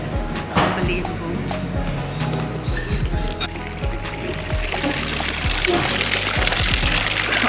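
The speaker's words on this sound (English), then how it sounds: "Look at this nice water fountain." Water pours and splashes steadily in a garden fountain at a UK farm shop, a continuous broad rush that swells slightly toward the end, with voices and background activity mixed in.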